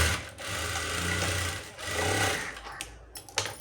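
Domestic sewing machine stitching along a blouse shoulder seam, a steady close whirring run that pauses briefly near the middle and stops toward the end.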